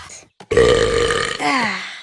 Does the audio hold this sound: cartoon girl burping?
yes